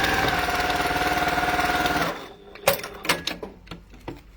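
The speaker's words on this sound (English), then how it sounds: "I'm just going to sew the bottom just to hold everything in place" Sewing machine running steadily as it stitches across the bottom of fabric to hold a pocket in place, a continuous loud mechanical whir for about two seconds that stops, followed by scattered handling clicks and taps.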